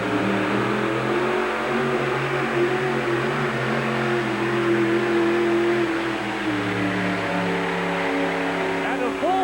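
Older short-wheelbase pulling truck engine roaring steadily at high revs during a truck pulling run, loud and sustained with a shift in pitch partway through, crowd and arena noise underneath.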